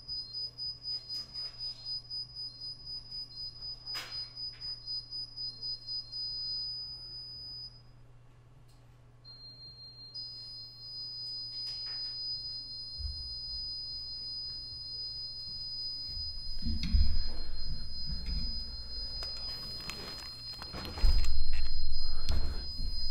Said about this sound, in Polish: Tak jak słychać w tle, e, uruchomiłem alarm.